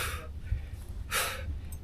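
Heavy, ragged breaths from a hiker climbing Mount Lawu's Cemoro Kandang trail, a few close puffing exhales and gasps spaced irregularly over soft outdoor background.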